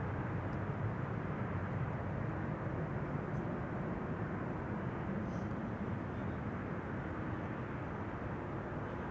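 A Boeing 747 rumbles at Amsterdam Schiphol Airport as it approaches for a runway crossing, a steady, dense engine roar that holds evenly, moderately loud and distant, with no talk over it.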